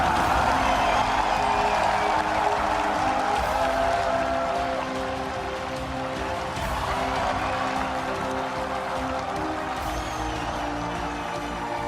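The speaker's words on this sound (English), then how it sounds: "Standing ovation from the crowd here at Staples Center" A large arena crowd at Staples Center roars and applauds in a sustained standing ovation at an esports finals after Samsung defeats SKT, a loud, continuous wash of cheering and clapping.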